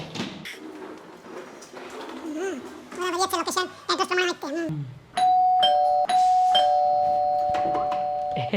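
People talk at first, then a doorbell sounds as a parcel delivery arrives: a loud, steady electronic chime that rings continuously for the last few seconds.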